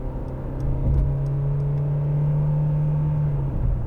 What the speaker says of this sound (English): Here we go, just give it some gas.